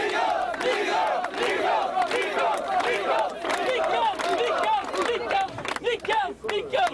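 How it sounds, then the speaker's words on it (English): A large demonstration crowd in Washington, DC chants a senator's name and applauds in a loud, continuous roar of massed voices and shouts that stays near and dense throughout. "So let's give him a rousing applause."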